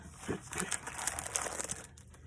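A paper craft collection with sticker sheets and cut-apart sheets is pulled from its plastic packaging, giving close, continuous crinkling and rustling with small crackles throughout.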